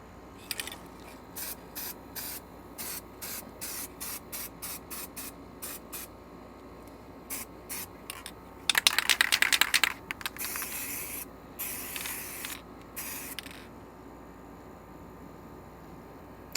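Spray can coating the undercarriage of a 1965 Mustang, a string of short hissing bursts in a steady rhythm, then longer continuous sprays with a rattling sound in the middle, close and moderately loud.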